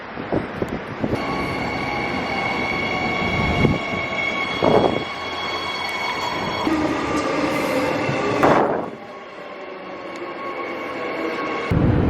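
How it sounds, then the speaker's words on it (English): A train rumbles into a station in Perth, Australia, and rolls along the platform, with a steady mechanical drone, tonal whines from the motors, and a brief hiss of brakes near the end. "There it is, the train's here."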